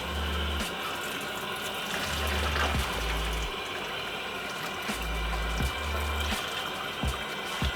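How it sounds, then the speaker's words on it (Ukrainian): Cold tap water runs steadily over cooked pasta in a colander, a continuous close splashing hiss with a few faint clinks and knocks underneath. "промиваєте їх обов'язково під холодною водою і залишаєте отак от в друшляку"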